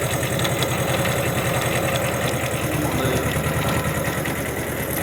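Kubota tractor diesel engine idles steadily nearby while backing up, a constant low throbbing rumble with a fast pulsing beat and no talk over it.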